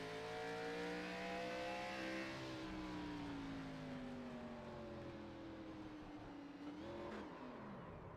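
Race car engines at Martinsville Speedway hold a steady, loud whine with sliding pitch as cars spin and slow, then a brief rev near the end, constant throughout with no talk.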